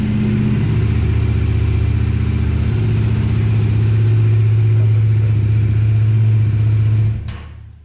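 A Bajaj Dominar 400 motorcycle engine runs steadily nearby with a deep, constant low drone that holds for about seven seconds, then cuts off abruptly near the end, leaving only faint background.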